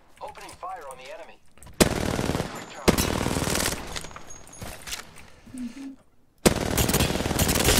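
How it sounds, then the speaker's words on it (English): Bursts of automatic gunfire in the shooter game Apex Legends, loud rapid volleys in several long runs separated by short pauses, with brief voice chatter at the start. "Opening fire on the enemy."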